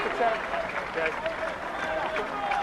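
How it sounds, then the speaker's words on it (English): A rugby crowd applauds as a player leaves the field, a distant and fairly faint patter of clapping heard under a commentator's voice. "good round of applause"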